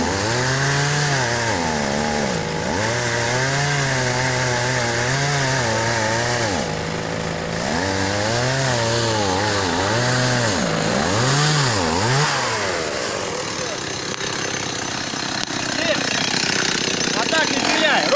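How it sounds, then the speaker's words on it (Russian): A chainsaw cutting wood, its engine cycling through repeated revs and bogs as the chain bites, loud and near throughout, with someone talking over it now and then. "А так не пиляй, ровно пиляй"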